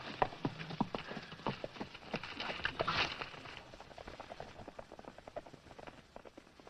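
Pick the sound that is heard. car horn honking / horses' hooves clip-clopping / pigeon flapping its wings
horses' hooves clip-clopping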